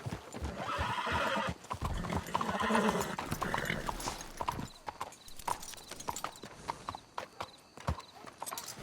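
In Red Dead Redemption 2, horses neigh loudly over a rapid clatter of hooves, then the hoofbeats continue alone as sharp, uneven clip-clops at a steady gallop.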